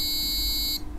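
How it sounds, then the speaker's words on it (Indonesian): An Arduino Uno buzzer triggered by a push button gives one steady, loud electronic tone lasting about three-quarters of a second before cutting off abruptly into quiet room noise. "maka buzzer akan berbunyi selama 1 detik sesuai delay yang kita"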